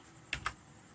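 Two quick, quiet keystrokes on a computer keyboard, a pair of soft clicks a fraction of a second apart against near silence.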